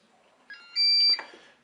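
A Cookeo multicooker gives a single short electronic beep as preheating finishes, a brief bright tone in an otherwise quiet kitchen.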